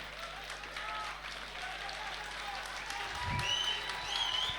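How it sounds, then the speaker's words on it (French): Audience applause at a gala evening, a steady wash of clapping from a crowd that carries on throughout and swells slightly toward the end, with a brief low thump partway through. "Non, n'applaudissez pas pour moi."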